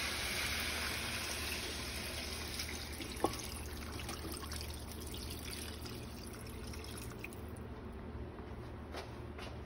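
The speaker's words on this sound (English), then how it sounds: "I'm just gonna add just regular old water." Plain tap water poured into a cooking pot for a rasta pasta sauce, heard as a steady faint trickle with a brief splash, continuous and unaccompanied by talk.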